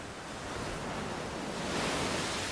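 Ocean waves crash steadily on a Hawaiian shore, a continuous broad wash of surf that swells slightly louder near the end, with no voices.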